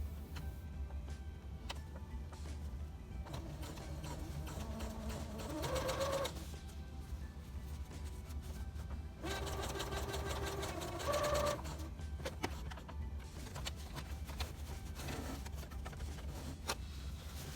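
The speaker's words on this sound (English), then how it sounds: "Then I sew the side seams using a basting stitch." A sewing machine runs side seams on a dress with a basting stitch, its needle chattering in several bursts separated by pauses.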